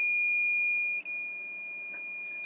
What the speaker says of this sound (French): J'éteins l'appareil parce que ça n'arrêtait pas de biper.